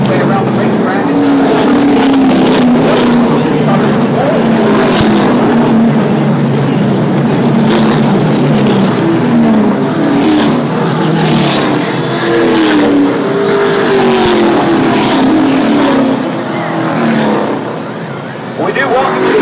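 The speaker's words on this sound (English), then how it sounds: "Field continues to work its way around the racetrack." NASCAR Camping World Truck Series race trucks roar around Texas Motor Speedway at night, a loud continuous engine drone with passing surges, under steady commentary.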